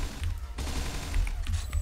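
Gatling machine gun firing in the shooter game Truy Kich, a dense, continuous rapid-fire rattle of automatic bursts that stays loud and steady with no talk over it.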